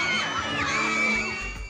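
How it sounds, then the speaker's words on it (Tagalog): Fiesta crowd in Tarlac shouting and whooping, a dense wash of high-pitched yells and screams rising and falling close by. "Hiyawan at palakpakan din ang sumalubong sa Golden Scorpion Boys ng palabas"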